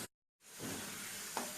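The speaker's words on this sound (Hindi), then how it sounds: "तीन 4 मिनट तक आलू को अच्छा से भून लेना है।" Potatoes fry in a pan over a high gas flame, a soft close sizzle and hiss that starts after a short silence and carries on steadily.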